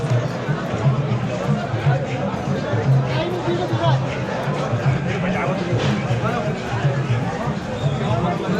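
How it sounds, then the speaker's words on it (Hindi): A large crowd of Amarnath Yatra pilgrims waits in a queue, producing a steady, dense babble of many overlapping voices and movement, continuous and fairly loud throughout. "ऐसे लाइन लग जाएगी क्योंकि भीड़ बहुत ज़्यादा है।"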